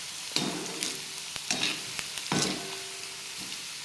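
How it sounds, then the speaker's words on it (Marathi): Potato pieces frying in hot oil in a pan, a soft steady sizzle broken by several sharp scrapes and clatters as a spoon stirs and turns them. "आणि असं परतवतच राहायचं, मस्त होतात ते। थोडासा त्याचा रंग बदलेपर्यंत आपण मस्त त्याला फ्राय करून घेऊ।"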